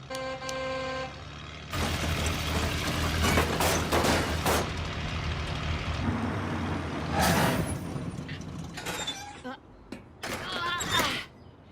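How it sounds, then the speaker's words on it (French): A cartoon bus pulls up with a low engine rumble, a horn toot, a hissing air brake and a clattering of rattling parts, with voices talking over it. "Je vous avais bien dit que je nous trouverais un bus."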